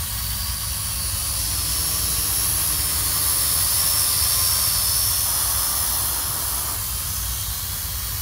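A YH-19HW foldable drone flies steadily nearby with a continuous, loud, high-pitched whine and whirring hiss that holds without a break.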